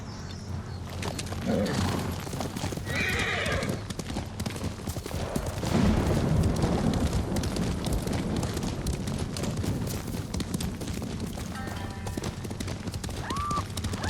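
Horses gallop in Ghost of Tsushima, a continuous rapid clatter of hooves with a brief whinny, surrounded by a busy game soundscape.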